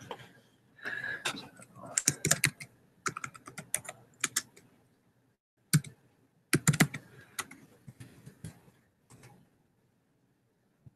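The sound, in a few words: typing on a computer keyboard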